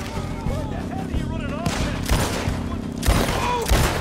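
A rapid fusillade of gunshots in the video game Red Dead Redemption 2, sharp cracks bursting in clusters over a busy game soundtrack, with a heavier volley near the end.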